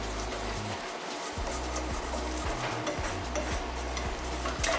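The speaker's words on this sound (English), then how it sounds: "I'm going to put my 1/4 cup of all-purpose flour into my melted butter, and then I need to whisk it up." A whisk scrapes rhythmically around a pan as all-purpose flour is worked into melted butter, quick repeated strokes with a soft sizzle underneath, close and steady.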